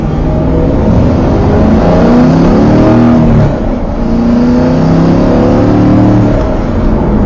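Corvette C7 Stingray with an FBO setup running in touring exhaust mode, a steady, fairly loud, muffled yet raspy engine drone heard from inside the car while driving, with mild swells in revs and no talk.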